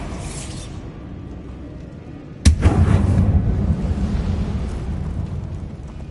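A Bombarda explosion spell goes off in Hogwarts Legacy, a single sudden loud blast followed by a deep rumbling, crackling decay, with no talk.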